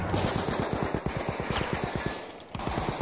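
Fast, evenly spaced automatic gunfire from a weapon in the multiplayer shooter Battlefield V, loud and close, rattling in a steady stream with a brief pause near the end before resuming.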